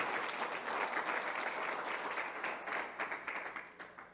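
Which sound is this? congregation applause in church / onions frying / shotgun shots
congregation applause in church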